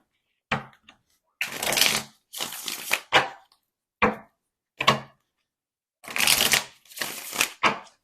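Tarot cards being shuffled close up in a series of quick riffling bursts separated by short silences, with occasional light taps as the deck is squared.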